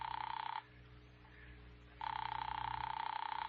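A telephone ringing on the line in an old radio drama: two sustained electric rings with a silent gap between them, steady and moderately loud, alone with no voices.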